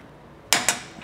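Two sharp metallic clicks in quick succession, then a fainter third, from a regular ratchet tightening bumper bolts on a 2022 or newer Toyota Tundra during a hybrid bumper install; close and otherwise quiet.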